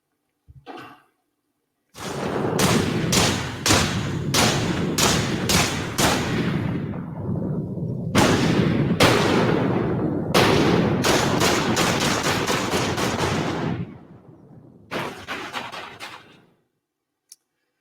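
Gunfire reverb tails from the video game Returnal roll through a rocky alien ravine, with no initial shots, only a dense run of echoing decays and reflections that overlap steadily and then thin out near the end.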